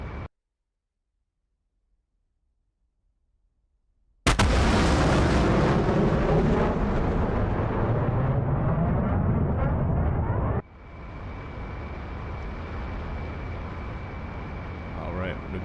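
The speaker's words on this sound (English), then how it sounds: "I'll be doing a fuel dump, turning this thing into a rocket ship." An F-14 jet in a flight simulator game bursts into a loud, continuous afterburner roar during a fuel dump after several seconds of near silence, then drops to a steadier, quieter rushing hum with a thin whine.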